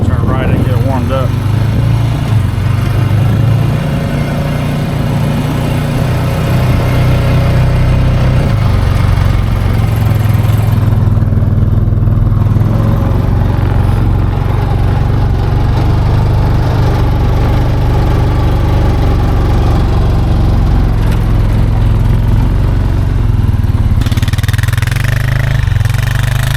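A snowmobile engine runs continuously up close to warm up after stalling a couple of times, a loud, steady buzzing drone with slight shifts in pitch, in snowy blizzard conditions.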